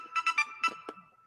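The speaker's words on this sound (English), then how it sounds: "that's my phone going off like really?" A mobile phone ringtone goes off in short bright tonal pulses, three quick chirps followed by two more, loud and close, among Falcons fans in Atlanta.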